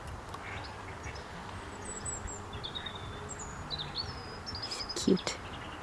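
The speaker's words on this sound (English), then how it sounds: "There's a duck." Mallard ducks on a canal on an outdoor walk, with a short quack close by near the end among scattered distant bird calls, over steady outdoor background noise.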